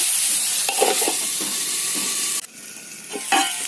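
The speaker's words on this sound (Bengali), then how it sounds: "আলুটাকে আমি খুব ভালো করে ভেজে নেবো" New winter potatoes fry in a pan, giving a steady close sizzle and hiss with a few stirring scrapes, then a brief drop as the pan is disturbed before the frying resumes. No one speaks.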